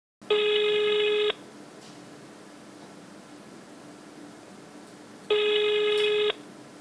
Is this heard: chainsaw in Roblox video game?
no